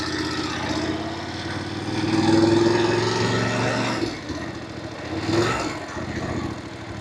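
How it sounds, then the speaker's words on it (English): A Voge 900DSX ride-by-wire motorcycle engine pulls away from low speed, rising smoothly in pitch and loudness before easing off, heard close under wind noise with a second brief throttle swell later. "pull away nice and smoothly here"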